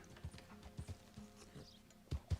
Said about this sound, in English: We got this horse with a mod.